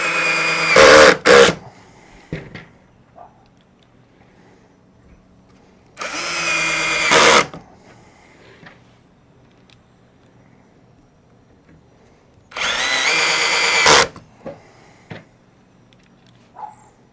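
A power drill pre-drills screw holes in a board while building a no-till crop crimper, heard as three loud, separate bursts of motor whine with quiet pauses between them.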